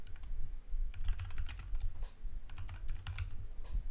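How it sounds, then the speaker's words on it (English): Steady typing on a computer keyboard, rapid close key clicks in uneven bursts over about four seconds with a low background hum, no voices. "I type in,"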